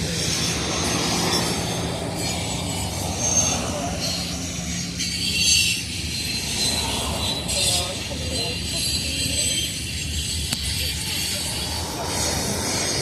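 A CSX auto rack freight train rolls steadily past with a continuous rumble and intermittent high-pitched wheel squeals, heard nearby from a vehicle pacing it, while people talk over the noise.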